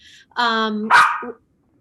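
A dog gives two or three sharp, loud barks close to the microphone, heard on its own against an otherwise quiet room during a remote school committee meeting.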